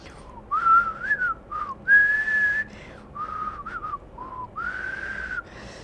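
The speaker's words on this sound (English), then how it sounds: "he began gently whistling a saccharine tune" Gentle, melodic whistling of a sweet tune in a series of short phrases, stopping and starting, fairly close with no talking.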